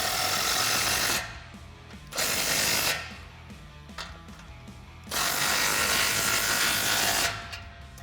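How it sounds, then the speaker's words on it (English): A 15mm deep socket on a power tool tightens exhaust clamps on a Flowmaster American Thunder side-exit dual exhaust for a 2016-2020 Toyota Tacoma, running in three loud bursts separated by quieter pauses. "we can start to tighten these clamps down. I'm using the same 15mm deep socket."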